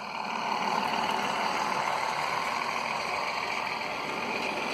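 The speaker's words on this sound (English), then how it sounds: "Let's see about this engine. Oh, it looks like it's starting up." A steady mechanical whir hums continuously at moderate level, the even motor drone of a Märklin model train engine, with no pauses or voices.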